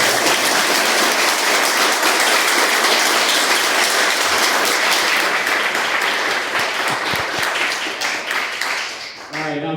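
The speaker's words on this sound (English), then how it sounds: "Can we give a round of applause for our teachers?" An audience at a candidate forum in a Unionville venue gives loud, dense applause for teachers, a close roar of many hands clapping that slowly thins toward the end.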